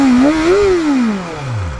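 A BMW S1000RR sport bike engine revs up and down close by, its pitch climbing, dipping and rising again in a smooth, loud sweep with no voices.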